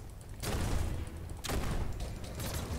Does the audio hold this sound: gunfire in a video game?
yes